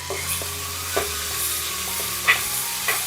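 Ginger and garlic fry in a pan with a steady broadband sizzle, punctuated by a few sharp scrapes and taps of a spoon stirring them, close and fairly loud, with no voices.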